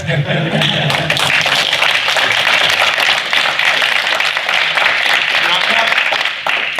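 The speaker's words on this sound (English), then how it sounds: "I appreciate your applause" An audience applauds at a gathering, producing a sustained wash of many hands clapping that stays loud and even throughout.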